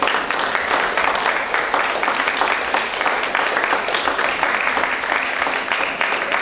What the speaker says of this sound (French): Merci de l'applaudir, Adeline Legris-Croisel